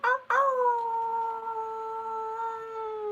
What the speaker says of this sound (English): End it with a wolf howl.